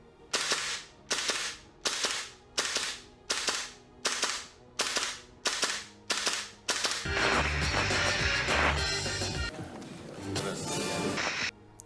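GHK AKM gas blowback airsoft rifle, short-stroked, firing close and loud: about nine evenly spaced single shots with sharp cracks, then a fast continuous rapid-fire burst lasting several seconds.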